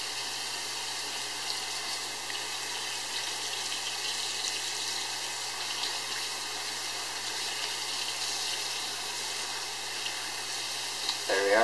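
Clear water hisses steadily through an airbrush being flushed out after clogging with paint, a constant broadband spray sound that runs unbroken and close for the whole stretch.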